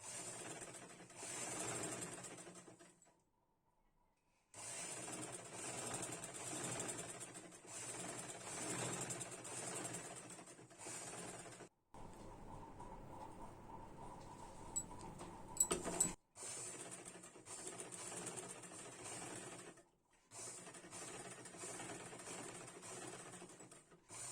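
Electric sewing machine stitching a blouse lining at the neckline: several runs of rapid, steady mechanical stitching rattle, separated by short quiet pauses, with one stretch of a lower hum and a brief clunk.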